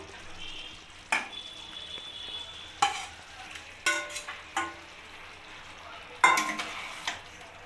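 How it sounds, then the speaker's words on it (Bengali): An egg omelet sizzles softly in a wok while a utensil scrapes and stirs it in several sharp, irregular strokes. "এবার ডিমের অমলেটটা ভালোভাবে নেড়ে চেড়ে আমি আবার ঢেকে দেবো একটু"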